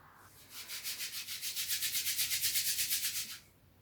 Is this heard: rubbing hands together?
yes